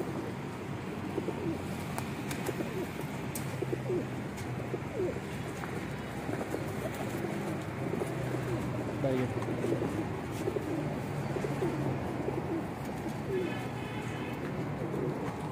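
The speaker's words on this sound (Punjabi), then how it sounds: "ਇਹ ਕਬੂਤਰ ਮਾਸ਼ਾਅੱਲਾ ਕਿਸੇ ਦਾ ਬਹੁਤ ਅੱਛਾ ਕਬੂਤਰ ਹੈ" Pigeons coo steadily at close range in a rooftop setting, soft repeated throaty calls running throughout over a busy low background murmur, with no clear speech.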